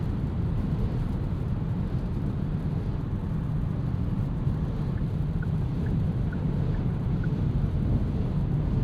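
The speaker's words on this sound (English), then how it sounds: "You can hear the wind hitting the wipers." Steady wind rush and road rumble fill the cabin of a 2026 Genesis G80 3.5T twin-turbo V6 sedan on a rainy night drive with the wipers running, a constant broadband wash with a few faint tones and no speech.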